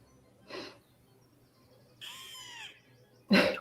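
A seagull in a video game gives a few short harsh squawking calls, spaced apart and ending with a louder, sharper cry against a quiet background.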